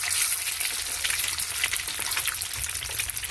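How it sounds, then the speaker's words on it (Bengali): Egg frying in a pan with turmeric and a sprinkling of gram flour, giving a steady, close crackling sizzle that continues throughout with no voices. "এতে দিয়ে এটাকে ভেজে নিচ্ছি"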